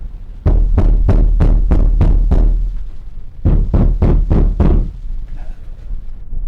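Heavy fists pound on a door in two loud, rapid bursts of about seven and then five booming knocks, with a short pause between them, as if someone were trying to break it down.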